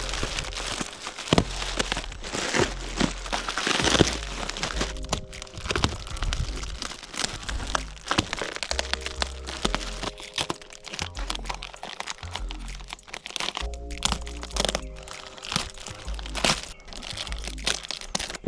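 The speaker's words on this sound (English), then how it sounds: "We almost got it unwrapped." Crinkling and crackling of packaging, plastic wrap and cardboard, being pulled off a carbon fiber track spoiler from Carbon Creations for a Genesis Coupe, busy and close throughout with occasional low thumps and no speech.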